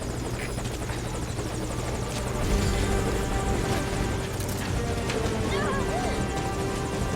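A helicopter waits at a landing zone in the video game Metal Gear Solid V, its rotor chop and engine whine steady and loud throughout, with radio-style voices talking over it.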